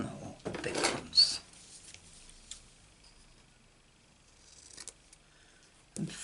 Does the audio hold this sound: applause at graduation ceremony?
no